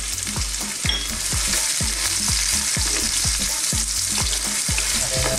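Garlic, onion and carrots sautéing in oil in a pan for sweet and sour pork, a steady sizzle punctuated by regular spatula strokes roughly twice a second, close and without talk.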